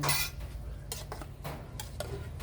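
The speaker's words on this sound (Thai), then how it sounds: "ตักใส่ชาม" Utensils clink against dishes while Thai sukiyaki soup with pork is ladled into a bowl at home, a few close, light metallic taps and scrapes spaced apart over a quiet background.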